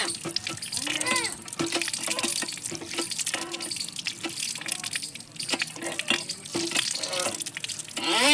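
A tomato is rinsed under a running kitchen tap, with water splashing and trickling continuously over it and dripping into the sink, while a voice talks over the washing.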